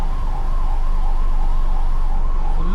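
An ambulance siren wails loud and close on a narrow single-lane road in Kerala, its steady rising-and-falling tone sounding continuously over low vehicle rumble.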